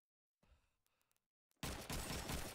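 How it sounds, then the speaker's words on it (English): Gunfire in Call of Duty 2 on the Dawnville map during a competitive match. A few faint, scattered pops give way to a sudden, dense burst of loud, sustained firing. "Shots being rattled off over at the FPS jump."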